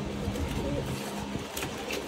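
Several pigeons, including a dove, coo in low, steady rumbles at a rooftop loft as almonds are fed to them, with a continuous background hum and brief higher chirps.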